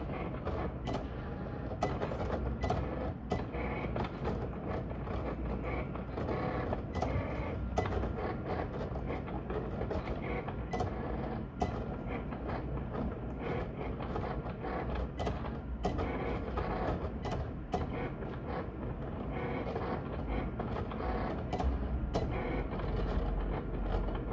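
A Cricut Explore Air cutting machine works through Monokote letters, giving a steady mechanical whir with repeated clicks and carriage shuttling, continuous and close with no talking.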